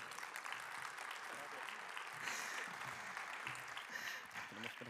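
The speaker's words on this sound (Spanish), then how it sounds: "Un aplauso." Audience applause at a medical congress workshop in Aragón, a steady wash of clapping from a seated crowd that holds for the whole stretch, with some voices mixed underneath.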